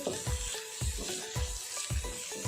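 Goat head curry masala sizzles in a pan while being stirred, a quiet steady frying hiss broken by regular soft scraping strokes of a spoon about twice per second.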